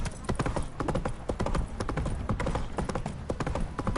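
Hooves of a horse galloping in the video game Witcher 3 pound in a fast, steady, close rhythm that runs without a break.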